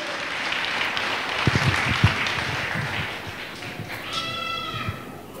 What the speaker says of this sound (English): A mighty hand clap to Jesus